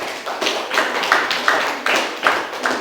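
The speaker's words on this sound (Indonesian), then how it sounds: "Kita beri tepuk tangan untuk kelompok yang pertama" Classroom applause for the first student group, a dense crackle of many hands clapping steadily and fairly close, swelling in regular bursts for a few seconds with no voices over it.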